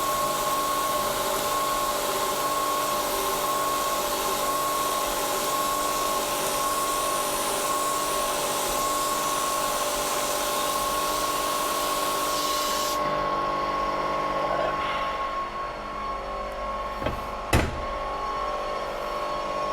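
A Tormach PCNC 1100 CNC mill drilling holes gives a steady whirring machine drone with a high tonal whine, then drops quieter near the end with a few short knocks.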